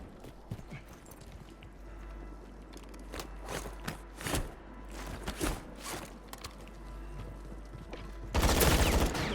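Bursts of gunfire in the Warzone video game, several sharp shots and short volleys spread irregularly at mid distance, ending in a louder, dense burst of fire.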